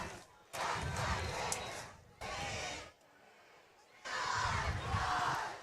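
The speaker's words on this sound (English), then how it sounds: "Cheer crew getting everybody fired up after that one" Cheer crew whipping up the home crowd at a Hudson Raiders vs New Richmond high school football game: three loud bursts of crowd yelling and chanting, separated by short lulls.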